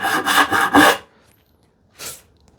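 A hand saw cuts a wooden tenon for a speaker table enclosure, giving four quick rasping strokes up close, then a pause and one more stroke.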